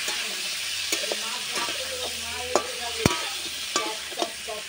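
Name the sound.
stirring and frying fish curry masala in a pan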